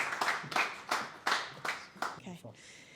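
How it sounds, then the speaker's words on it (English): Applause for the final speaker at a sales and wealth-management event: a few loud, separate claps in an uneven rhythm, close by, fading into murmured voices near the end. "Can we have a big round of applause for our final speaker"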